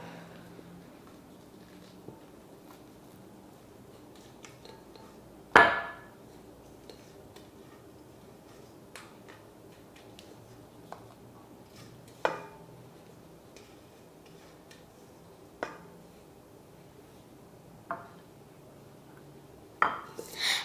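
Cheesecake filling is moved into a different bowl, a faint quiet scene punctuated by sparse clinks and taps of a utensil against the bowl, with one louder knock and longer pauses between.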